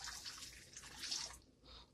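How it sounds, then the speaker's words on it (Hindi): Hot water is poured into a bowl holding two packets of strawberry jelly mix, giving a steady, close splashing pour that thins out toward the end. "इसमें हम गर्म पानी डालेंगे"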